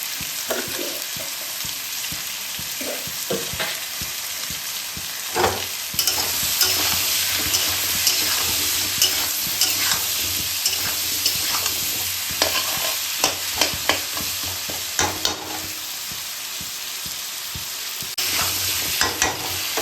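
Vegetables with turmeric and salt sizzle and fry in a pan, with a continuous hiss and frequent clicking stirs and scrapes from a spatula, close and steady.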